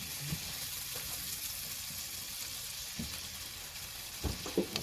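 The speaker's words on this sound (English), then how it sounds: "let me just stir this real quick to get it moving around" Stuffing mixture stirred in a pan, a soft steady sizzle with a few dull scrapes and knocks of the spoon, faint and close.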